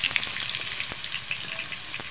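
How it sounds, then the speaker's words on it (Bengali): Potatoes fry with turmeric in a hot pan, sizzling busily with crackles and spatter, with occasional soft knocks of stirring through the brief stretch. "আমি আলুটা নাড়াচাড়া করে ভেজে নেব।"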